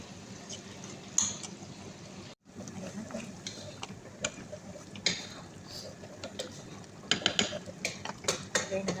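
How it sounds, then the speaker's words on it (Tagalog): Peanut butter being stirred into a simmering chicken dish, with irregular scraping and clinks of a utensil against the pot, close and moderately loud, a short pause early on, over a low cooking hiss. "lagyan natin ng peanut butter. So, ayan. Ano lang natin, mix lang natin."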